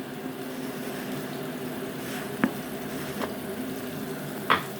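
Ingredients sautéing in a pan, a soft steady sizzle at moderate distance, broken by a few brief sharp taps of stirring, with no speech.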